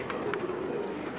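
Pigeons at Ustad Mian Nazeer's loft in Lilyani coo softly and steadily, with faint low calls repeating over a constant background hum and no talk.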